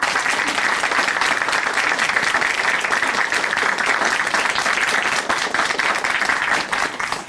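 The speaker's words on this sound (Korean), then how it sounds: "응원의 박수 보내드릴게요" A studio audience on a Korean Christian television program applauds a guest, with sustained, dense clapping from many people that runs strong for about seven seconds before thinning slightly at the end, with no speech.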